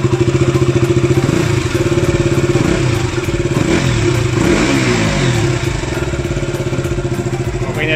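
A 2019 KTM RC 200 sport motorcycle runs close by with a steady, rapid engine throb and exhaust note, revving slightly mid-way, loud and continuous with no talking.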